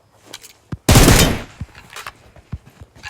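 Rapid gunfire from a mobile shooter video game: one loud, dense burst near the start, then scattered lighter shots and clicks, close and punchy, with no talking over it.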